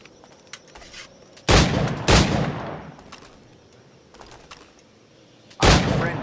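Firearm shots at targets in Assassin's Creed IV Black Flag ring out as three loud, sharp blasts with decaying echoes, two close together early and one later, over a quiet ambient background.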